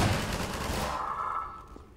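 Gunfire in Half-Life 2: Episode One, a loud sustained burst of shooting that fades out into a decaying echo. There is no talk.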